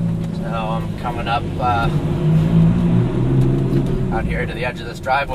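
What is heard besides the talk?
Lamborghini Gallardo engine while driving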